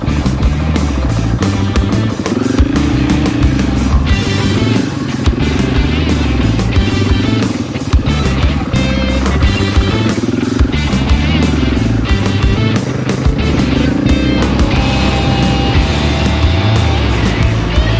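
A motorcycle rides down the winding roads from Mount Lookout in Victoria's High Country, its engine a loud, constant close-up drone with shifting pitch and wind noise throughout, and no voices.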